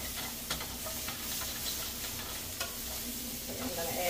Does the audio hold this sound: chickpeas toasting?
yes